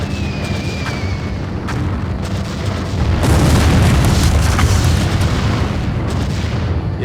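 A heavy bomb blast from a bomber unit in the strategy game Empire Earth, a loud booming explosion that swells after a few seconds into a sustained rumbling roar over continuous battle noise.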